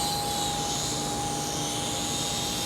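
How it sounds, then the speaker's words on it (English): Cheap XB Raptor toy RC helicopter taking off, a constant high-pitched whine and buzzing rotor drone with a steady tone, loud and close, with no talk. "Let's see if we can take off one more time."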